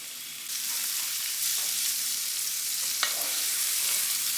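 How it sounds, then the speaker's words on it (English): Bacon sizzles and fries with leek in a pan, a loud, steady broadband crackle close by, with one sharp utensil knock near the end and no voices. "Ready to add the bacon to the leek."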